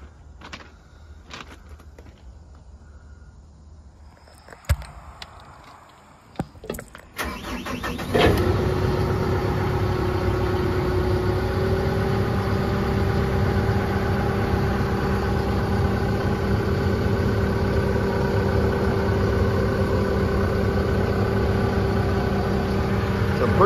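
A seven-tyre rubber-tired asphalt roller with four tyres at the back and three at the front. After some clicks and handling noises the engine cranks and fires, then settles into a loud, steady diesel idle close by.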